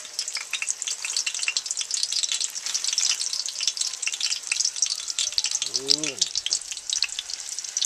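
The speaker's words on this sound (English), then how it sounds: "there's that nice sizzling sound" Legs of lamb coated in dry rub sizzle loudly and steadily in hot oil in a Dutch oven, a dense crackling hiss; a voice briefly exclaims midway.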